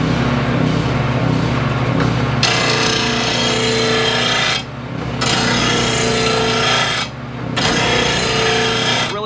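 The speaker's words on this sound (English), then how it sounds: "we just got done sharpening our first lawnmower blade" A lawn mower blade is ground to a sharp edge with a power tool, a loud continuous rasping grind that runs in long passes with two brief pauses between them.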